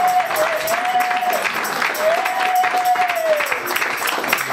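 A congregation at a Christian wedding applauds in a steady, lively wash of clapping, with a voice and a sustained musical tone over it.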